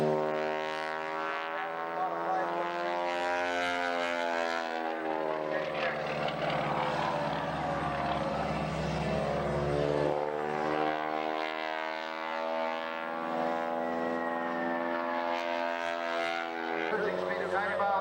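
A Grumman warbird flies past at an airshow with a sustained, droning propeller-engine hum whose pitch bends and sweeps as the aircraft passes. An announcer talks over the engine the whole time.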